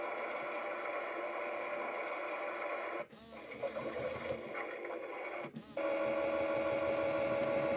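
Toy Bosch washing machine spinning water out of its drum: a steady, close motor whir with a high tonal hum that wavers briefly mid-spin, then settles back to an even drone.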